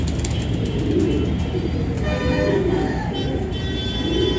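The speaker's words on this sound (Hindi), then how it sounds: "ये मादा लगाई हुई है उस बाजरे कबूतर से" Bajra pigeons in a loft cooing, soft low rolling coos that repeat in a slow cycle, close and fairly loud, with faint chirps and background ambience around them.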